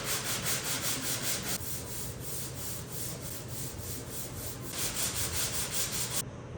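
Car body filler on a Mercedes 190E being sanded with 180-grit sandpaper, a loud, close, continuous rubbing rasp with rapid rhythmic strokes and no talk.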